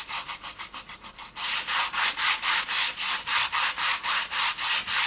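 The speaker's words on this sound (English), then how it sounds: "I can just give that a little bit of a sand." Hand sanding across a painted, stenciled tone-on-tone background makes close, rhythmic rubbing strokes in a steady back-and-forth pattern that grows fuller and louder after the first second, with no voices.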